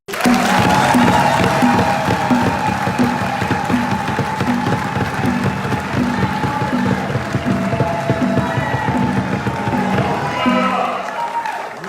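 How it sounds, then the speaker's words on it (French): Crowd applauding and cheering at a LAMUKA political rally in Brussels, a dense, continuous wash of clapping and shouts that stays loud and steady throughout, with voices mixed into the noise. "Chaque fois que je dirais les noms de mes amis leaders de l'Afrique, je voudrais que vous applaudissiez"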